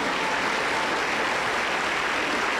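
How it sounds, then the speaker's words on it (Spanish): A Pentecostal church congregation in Huancayo breaks into strong applause, a loud, dense, continuous roar of many hands clapping that holds steady throughout. "Damos un fuerte aplauso para Cristo nuestro Salvador."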